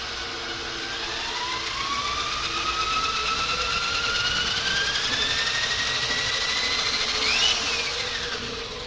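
A power drill whirs continuously while driving a small wind turbine on a bench test, its pitch rising steadily as it speeds up, close by and without speech.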